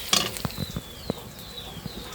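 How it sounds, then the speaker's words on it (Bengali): Chillies and onions fry lightly in a pan, a soft, close sizzle with faint spatters and occasional stirring scrapes, no voices. "এখন আমি মরিচ পেঁয়াজ হালকা করে ভেজে"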